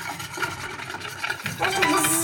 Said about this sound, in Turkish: Biraz hızlı karıştırıyorum arkadaşlar